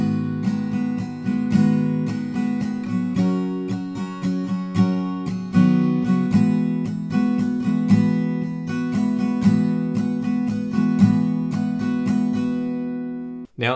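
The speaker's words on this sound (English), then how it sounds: "Now I'm strumming this song with my fingers." An acoustic guitar is strummed steadily with the fingers in a rhythmic chord pattern, playing the song's chords, close and clear throughout with no voices.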